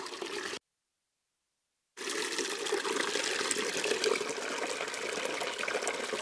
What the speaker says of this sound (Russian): Нальем еще ведро, воды не жалко.